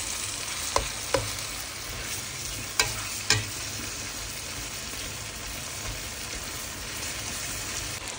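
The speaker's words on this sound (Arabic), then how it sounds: "بقى تحرك حتى يقرب لك الدجاج." Rice and chicken stirred in a pot, a steady sizzling bed with a few sharp spoon scrapes and knocks against the pot, no one talking.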